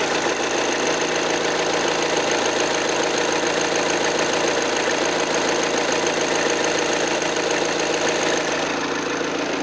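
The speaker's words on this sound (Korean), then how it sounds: "정숙한 디젤 엔진 소리 들려주고 있고요" A Volkswagen New Tiguan 2.0 diesel engine with 200,000 km idles steadily with a smooth, constant rumble and faint knocking texture, close by and alone with no voices.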